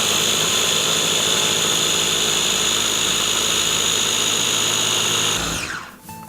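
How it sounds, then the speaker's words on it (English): Blender blending tahini paste: a loud, steady high-pitched motor roar running continuously before winding down abruptly at the end. "You want to blend this until it is a smooth consistency."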